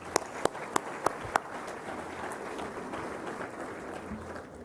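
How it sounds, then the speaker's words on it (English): Large banquet audience of business leaders applauding sponsors at an economic speech event, a broad steady roar of clapping across the room, with several sharp close claps standing out at the start. "Let's give them a big round of applause."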